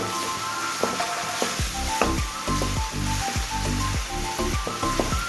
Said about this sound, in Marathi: कांदा इथं भाजून घेऊया मी.